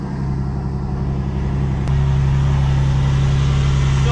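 A BMW M1 engine idles steadily close by, a constant low rumble that drops to a deeper, steadier hum partway through as the cold-start revs settle.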